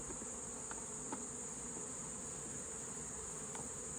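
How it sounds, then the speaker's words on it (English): Honey bees, nurse bees scooped into a box during varroa treatment, humming in a dense, steady drone, faint and continuous with a high whining edge and no voices. "all nurse bees."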